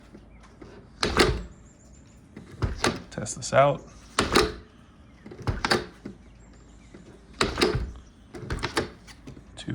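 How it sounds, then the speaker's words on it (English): An exterior door with a minimal deadbolt and knob combo is opened and closed several times, with sharp latch clicks, thuds and handle rattles spaced through the stretch, while a person talks between them. "So this door opens and closes like butter."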